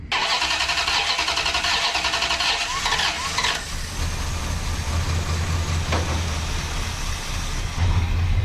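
Engine of a Plymouth Road Runner, back on the road after 25 years and running rich, cranks and catches with a loud burst of hiss and rattle, then settles into a steady rumbling idle that swells again near the end.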